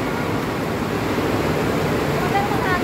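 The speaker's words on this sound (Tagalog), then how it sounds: "Bakit may ambon dito?" Light outdoor drizzle makes a steady, even hiss of rain that fills the whole moment without letting up.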